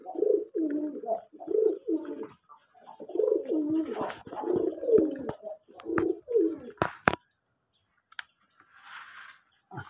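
Pigeons coo close by in repeated throaty phrases for several seconds, followed by a few sharp clicks and a quieter stretch.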